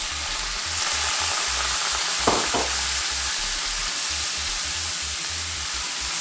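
White cooking wine sizzles in a pan with browned chicken, a steady loud frying hiss with a couple of brief bright scrapes partway through.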